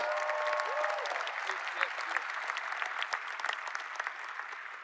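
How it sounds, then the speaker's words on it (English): A seminar audience claps for a man in a big round of applause, dense steady clapping throughout with a few sharper individual claps, and brief murmurs at the start. "Give him a big round of applause"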